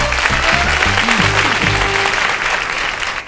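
Loud applause fills a TV quiz show studio, steady clapping from an audience with a bright musical jingle playing over it.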